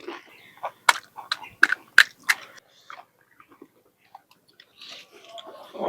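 Crunchy homemade fuchka shells being bitten and chewed up close, a quick run of five or six sharp crisp crunches followed by softer chewing, with faint whispery sounds between.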